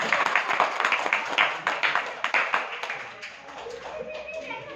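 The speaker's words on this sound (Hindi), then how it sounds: "उनके लिए जोरदार तालियां हो जाए" An audience at a children's festival event claps in bursts of scattered, uneven hand-claps, with a voice talking over them as the clapping thins out toward the end.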